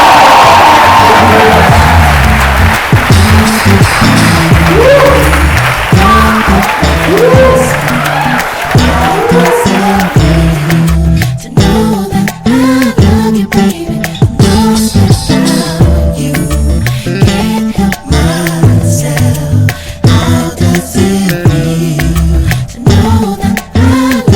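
A crowd at a State of the Arts talk applauds and cheers for presenter Daphne Iking. The whooping and clapping are loud and sustained, with a heavy, rhythmic, harmonic sound rising under the crowd in the second half.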